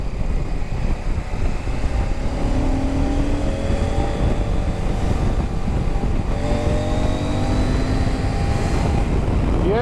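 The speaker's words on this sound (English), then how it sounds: "typical KTM engine, high up in the rev range or higher up in the rev range, an absolute flyer" A CF Moto 800 MT motorcycle engine revs high, a loud, continuous roar with rising and falling pitch sweeps as the throttle is worked through the upper rev range.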